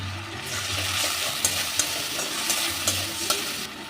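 A paste of ginger, garlic, green chili and raisins sizzles in a pan with fried onions, the steady frying punctuated by several clicks of stirring and scraping.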